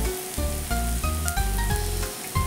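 Moth bean sprouts sizzle and fry steadily in a pan while spices are added, with a continuous close crackle and occasional stirring scrapes, no voices.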